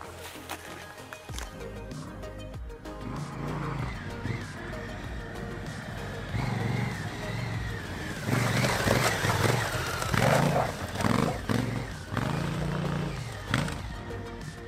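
Motorcycles, including a Triumph Scrambler 1200XE, riding out from an adventure rally camp, engines rising from idle to a revving pull-away, with footsteps, handling noises and voices nearby.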